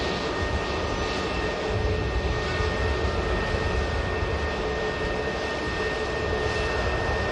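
Continuous jet engine roar from a KLM Airbus A321neo at Manchester Airport, a loud steady broadband rumble and whine holding throughout with no voices.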